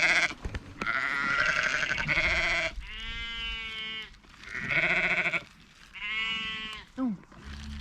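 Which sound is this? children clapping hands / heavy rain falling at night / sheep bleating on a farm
sheep bleating on a farm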